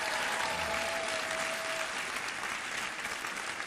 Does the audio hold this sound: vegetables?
no